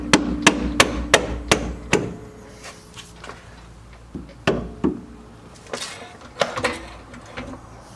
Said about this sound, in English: Maybe we can get our trusty mallet.